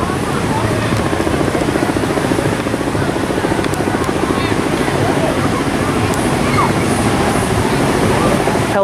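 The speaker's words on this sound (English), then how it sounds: "Helicopters fly over all day long." Steady, continuous helicopter rotor drone with a low thumping pulse over a waterpark in Sevierville, Tennessee, loud and unchanging throughout, mixed with broad outdoor noise.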